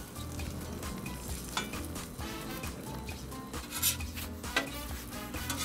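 Eggs frying on a Blackstone 22-inch griddle, a dense continuous sizzle with intermittent scraping and tapping of a spatula moving the whites, close and steady with no talk.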